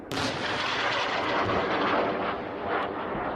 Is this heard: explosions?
yes